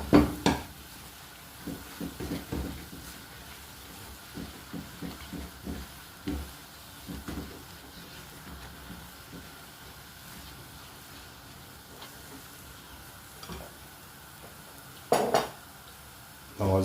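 Homemade vegetable stock paste being stirred in a pot, with a spoon scraping and clinking against the sides in a quick run of strokes, then sparse, quieter knocks and a louder clatter near the end.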